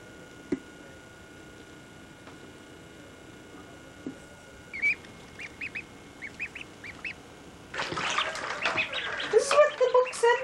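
Ducks quacking outdoors among other wild birds, with a few short, fairly faint calls first and then a denser, louder burst of overlapping quacks and chatter toward the end.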